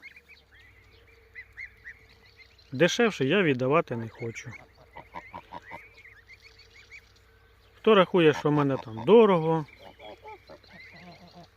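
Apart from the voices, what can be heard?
geese honking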